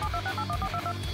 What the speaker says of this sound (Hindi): डेडपूल को फोन करना होगा।